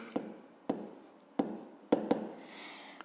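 A pen or chalk writes out a fifth-grade math solution in a series of about six sharp taps and short scratchy strokes, close and fairly quiet, with brief pauses between marks.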